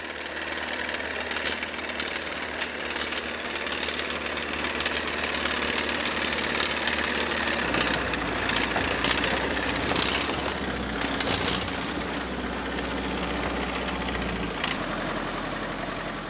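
A tractor engine runs steadily at a logging site in rugged Russian mountain forest, a continuous loud mechanical drone with rough knocking vibration that shifts slightly in load midway, with no voices.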